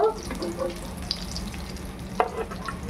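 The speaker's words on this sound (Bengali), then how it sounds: "ডিম ডিমগুলো সুন্দর করে ভাজা হয়ে গেছে, এবার তুলে নেব।" Eggs fry in hot oil in a pan, crackling and sizzling close by with occasional sharp pops and stirring scrapes, with no voices.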